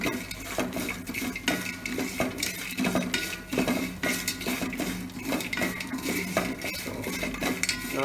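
A spoon scrapes and clinks steadily against a pan as ingredients for Vishesha Dwadashi pulao roast in ghee, a busy, continuous metallic stirring with a faint frying hiss underneath.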